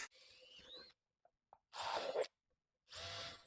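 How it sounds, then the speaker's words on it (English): A power drill drilling drainage holes in thrifted boxes whirs in three short bursts, each a few tenths of a second to a second long, with brief quiet gaps and small clicks between. "I'm going to go ahead and drill some drainage holes in them"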